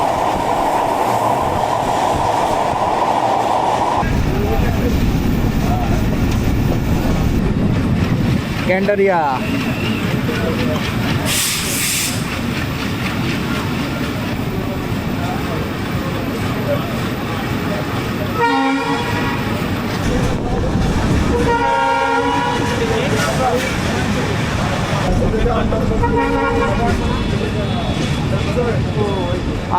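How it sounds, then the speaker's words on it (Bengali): An Ovijatri commuter train running at night into Kamalapur station in Dhaka, with loud continuous rumble and rattling wheels, clickety-clack passages, and a horn toot; a voice speaks briefly over the noise. "আস্তে ধীরে করে আমাদের ট্রেন কমলাপুর ঢাকা স্টেশনে প্রবেশ করছে"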